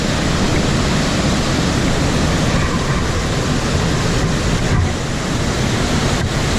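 Whitewater rapids on the Irondale-Burnt River pour over a steep drop, giving a loud, steady, close roar of rushing water that never lets up.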